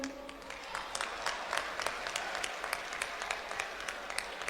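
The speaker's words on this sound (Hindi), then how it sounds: "इतनी कमजोर तालियां" Thin, scattered applause from the audience at a poetry recital, the claps distinct and uneven rather than a full roar, fairly quiet and continuous.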